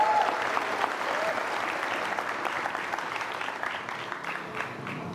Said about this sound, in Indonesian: kasih tepuk tangan dong geng motor imut